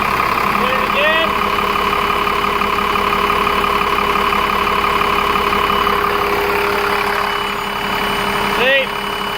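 The diesel engine of a 2003 New Flyer bus with a charging fault idles steadily and loudly with a constant drone, the pitch shifting only slightly as it is revved, while a person talks briefly over it.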